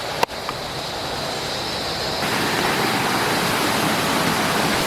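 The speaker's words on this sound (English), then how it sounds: "We're back at the waterfall that we really like." A waterfall in the woods of Thailand pours with a constant, loud, close rushing hiss, steady and unbroken after a small knock at the start.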